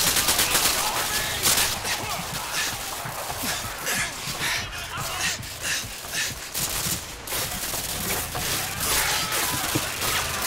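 Sustained, dense gunfire with many overlapping shots and bursts fills a battle in Modern Warfare 2, loud and continuous throughout with crowd-like shouting mixed in.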